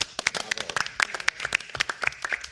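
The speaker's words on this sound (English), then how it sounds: "perhaps an applause from the commissioners to the chair" Commissioners at a New York City charter commission meeting applaud their chair, a burst of many sharp, uneven hand claps close by, running steadily for a couple of seconds.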